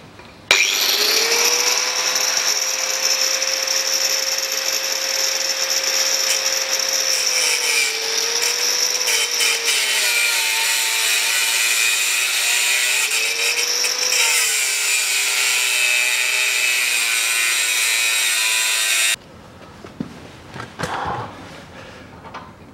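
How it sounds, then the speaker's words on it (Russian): An angle grinder cuts through a bolt on a 1982 Land Rover Series III during teardown, a loud steady high whine with shifting pitch for about nineteen seconds, then it cuts off and winds down with clatter. "Сейчас болгаркой его обрежу."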